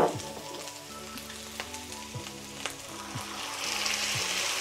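Cooked meat in a pan sizzling and crackling after water and spices are added, a close, continuous hiss with scattered pops and faint stirring, with low background music underneath.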